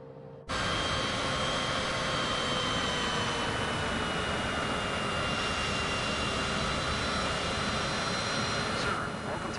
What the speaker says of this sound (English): Taxiing to general aviation parking via taxiway Alpha Tree Alpha.